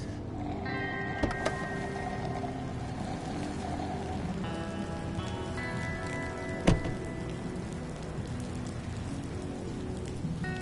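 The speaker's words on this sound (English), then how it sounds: "Damn it, I hate the rain." Rain falling in the Batman: The Enemy Within game, a steady soft patter of drops on surfaces with a few sharper clicks and tonal hums from the game scene.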